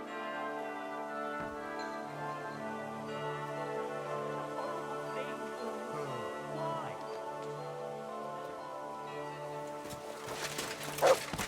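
Dog barks and whimpers in Kingdom Come: Deliverance 2, short yips rising over a steady bed of tonal game music and ambience, with a brief louder burst near the end.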